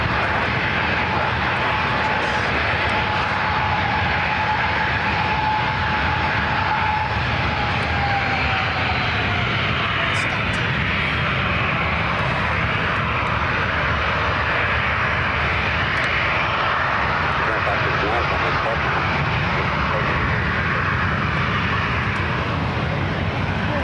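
Continuous heavy engine roar of the airliner on flight 3015 at SFO, a dense steady rumble with a faint sliding tone early on, close and loud for the whole span.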